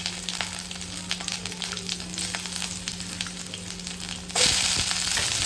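Cumin seeds and garlic frying in well-heated oil in a pan, a continuous close crackling sizzle that suddenly swells louder and brighter near the end.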